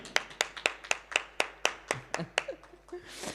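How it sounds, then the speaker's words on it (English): A small audience claps for a guest speaker, Dr Francis Lugayizi, in a burst of about a dozen distinct, fairly rhythmic claps that thin out, with a brief chuckle and murmur near the end. "A round of applause to him, ladies and gentlemen"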